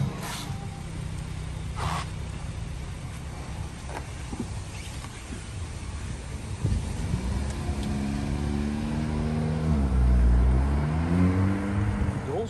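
An Audi S4 fitted with a Milltek rear silencer starts up and revs, the close engine note climbing and falling through several strong throttle sweeps over a steady rumble.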